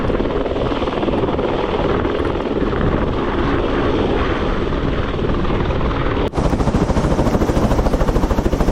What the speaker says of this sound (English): So pretty noisy when you're unpacking the helicopter.